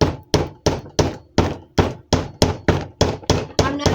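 A tack hammer drives nails into a wooden beehive frame during hive assembly, striking about eleven sharp, steady knocks at a quick regular pace, loud and close with no talk.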